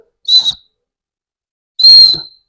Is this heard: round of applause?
no